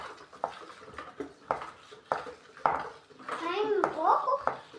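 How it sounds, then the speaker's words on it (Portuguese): Mixing homemade cornmeal bread dough in a bowl, with repeated clinks and scrapes of a utensil against the bowl in a steady rhythm while a child and an adult talk nearby. "Deixa eu misturar agora, mãe."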